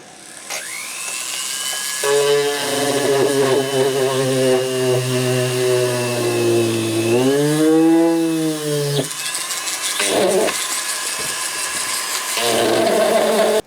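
A high-pitched rotary tool with a large sanding cone whines loudly as it grinds plastic model parts, pitch dipping and rising under load, with brief pauses between passes.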